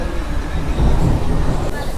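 MEMU passenger train running between Rajahmundry and Visakhapatnam in rain, a loud, close low rumble and rattle of the carriage interior, with indistinct voices mixed in.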